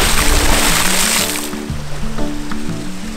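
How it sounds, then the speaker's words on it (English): A big splash of water at a rocky stream crevice, loud rushing wash at first that settles into steady flowing water and sloshing, close by. "Big splash."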